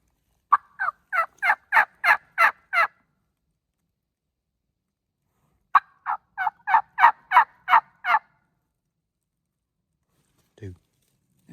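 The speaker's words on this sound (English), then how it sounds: "There's turkeys down below me gobbling back." Wild turkeys gobble from below a hunter's position in two loud rattling bursts of rapid, evenly spaced notes, each lasting a few seconds, with a faint short call near the end and quiet in between.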